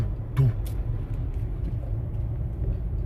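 Low, steady road rumble fills the cabin of a moving Nissan Terra SUV, with a constant engine and tyre drone and a brief faint voice fragment early on.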